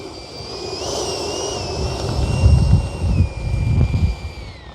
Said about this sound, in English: taking up the FREEWING 90mm F-22 again.